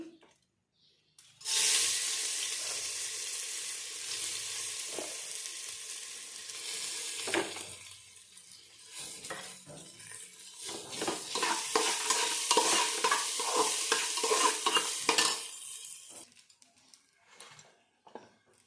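Rice tipped into a pot of hot oil with bay leaves for pulao, a loud sizzle that settles into steady frying, followed by rhythmic scraping and stirring with a spoon.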